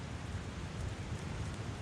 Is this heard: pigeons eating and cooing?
no